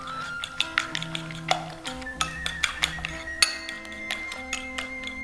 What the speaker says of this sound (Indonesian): Dikocek-kocek sampai berbuih seperti ini.